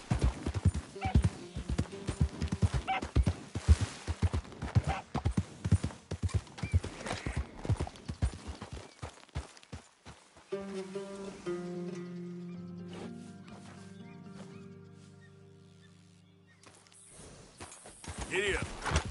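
Horse hooves in the Red Dead Redemption 2 video game clip-clop in a quick steady rhythm, loud and close, then stop as a whinny and music take over before the hoofbeats return briefly.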